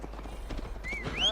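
Horse hooves clip-clop at a gallop in Assassin's Creed Valhalla, a quick steady rhythm close by, with a brief whinny rising near the end.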